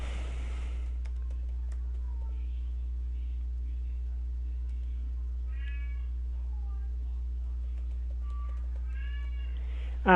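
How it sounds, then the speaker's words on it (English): A house cat meows several times in the background, short rising calls clustered near the middle and end, faint against a steady mains hum in a quiet room with no talk. "if you hear that in the background, that's the cat."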